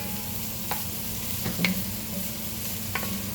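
Sweet Italian sausage crumbled into a hot pan for Bolognese, a soft steady sizzle with a few light taps and scrapes, quiet and with no voices.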